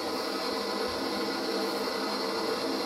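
Steady, even whooshing fan-sound setting from a 2016 4Moms Mamaroo electric baby swing's speaker, a constant broadband hiss with no breaks, heard on its own at moderate volume.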